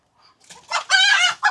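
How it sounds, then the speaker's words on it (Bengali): A rooster at a small poultry farm gives one short, loud, close crow, preceded by a few faint clucks. "তাদের এটা হলো তাদের মুরগির ছোট্ট ফার্ম"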